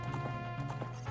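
Game horse hooves in The Legend of Zelda: Ocarina of Time clip-clop in a quick, fairly even rhythm of about half a dozen light thuds, over a steady low hum of game music.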